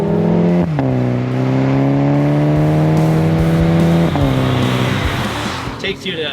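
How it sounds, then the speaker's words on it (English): A GP3 race car on a test drive accelerates hard, its engine note rising steadily through the gears, close and loud from onboard, with a shift break midway and rising road and wind noise. "we're gonna jump in the car and take it for a little rip and see what this car is like to drive"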